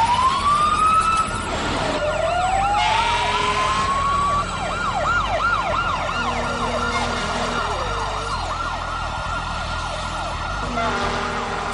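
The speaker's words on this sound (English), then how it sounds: "From across the city, 11 fire engines race downtown." Multiple fire engine sirens wail and yelp together as the trucks race through a downtown city, loud and layered with overlapping sweeping tones, plus a horn blast and traffic rumble underneath.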